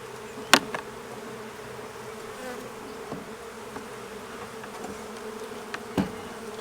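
Honey bees buzz steadily around an opened hive box during a spring upgrade, a dense close hum broken by a few sharp louder passes and knocks.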